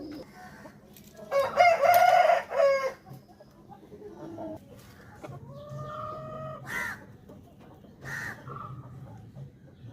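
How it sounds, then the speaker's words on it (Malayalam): A tall young rooster that has only just started crowing lets out one loud, close crow, followed by quieter clucks and a couple of shorter calls against a faint background hum. "കൂവി തുടങ്ങിയതേ ഉള്ളൂ"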